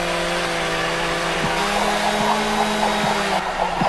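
Chainsaws run in a cartoon, a steady loud buzzing engine drone with a few rising revs, while the performer juggles them on a trampoline, no talking heard.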